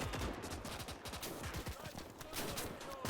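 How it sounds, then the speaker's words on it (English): Dense gunfire from a firefight with riflemen in the WWII strategy game Gates of Hell, a continuous rattle of overlapping rifle and machine-gun shots with no clear pauses, fairly faint and distant throughout. "he's in a firefight with some riflemen"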